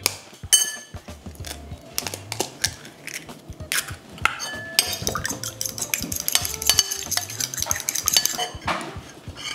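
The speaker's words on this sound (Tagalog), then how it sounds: "Magbati kayo ng itlog." Eggs being beaten in a bowl: rapid, close clinking and tapping of a utensil against the bowl, irregular bursts of whisking with short pauses, loud and without talk.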